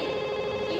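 An incoming call rings on a phone, a steady electronic tone holding for just under a second, fairly loud and close with no talk over it.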